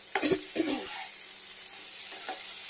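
Potatoes frying in a pan, a soft sizzle with a few stirring scrapes early on, quiet and close, fading to a low steady hiss.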